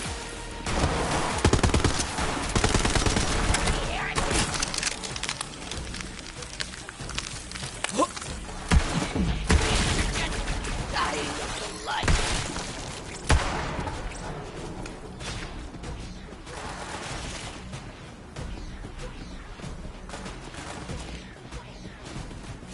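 Rapid bursts of gunfire in the video game Borderlands 4, loud and dense throughout with thumping impacts, heavy action sound effects layered together, and a voice talking over parts of the fight.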